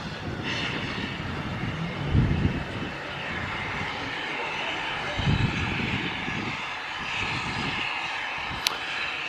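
A diesel locomotive at the rear of a Santa train near Williton, in December, drones steadily and loudly with a broad engine rumble and a few low surges.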